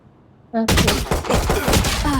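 Rapid bursts of video game gunfire crackle densely after a brief electronic tone, loud and continuous for about two seconds.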